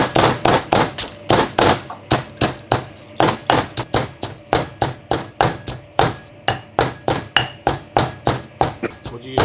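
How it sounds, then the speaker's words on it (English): Rhythmic pounding of chilies in a mortar with a pestle, loud close thuds repeating steadily about three times per second with no letup. "first we put chili in the mortar. Yeah, we grind this one first."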